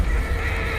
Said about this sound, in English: Right now he's just riding his horse around, right?